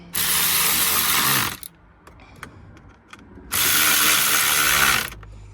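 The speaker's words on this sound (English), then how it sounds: "get my wrench," Rapid ratcheting clicks from a wrench tightening threaded bolts during an LED digital instrument cluster install in a 2014-2019 Toyota 4Runner, two loud close bursts of about a second and a half each, separated by quieter handling clatter, no talk.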